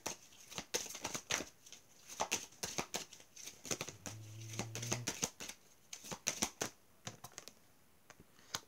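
Tarot or oracle cards being shuffled for a card reading, a series of close, crisp riffling and slapping card sounds in irregular bursts, quiet and without talk.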